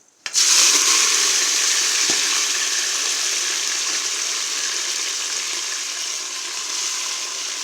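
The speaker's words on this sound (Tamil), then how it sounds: "நல்லா வணக்கி விட்டுறலாம் நல்லா ஒரு அஞ்சு நிமிஷம் நல்லா வணங்கட்டும்" Onion, green chilli and tomato sizzle steadily in a hot pan for mutton biryani, a loud continuous close-up frying hiss that starts abruptly and holds for several seconds with no talk.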